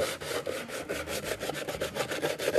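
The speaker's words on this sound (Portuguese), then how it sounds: "Esse barulho de lixo é incômodo." Sandpaper rasps back and forth across wood in quick, steady rubbing strokes, close and continuous.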